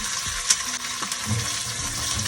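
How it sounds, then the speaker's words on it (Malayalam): Chopped ginger, garlic, green chilli and curry leaves sautéing in a pan for Kerala-style beef pickle, a close continuous sizzle broken by a few light clinks and scrapes of a stirring spoon. "ഇതിട്ട് നന്നായിട്ടൊന്ന് വഴറ്റിയെടുക്കുക. നല്ലപോലെ ഒന്ന് വഴറ്റിയെടുക്കണം."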